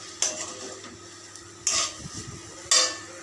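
Bursts of sizzling in a pan flare up three times over a low steady crackle as Bombay duck (lote fish) fries, with faint clinks of a utensil stirring between them.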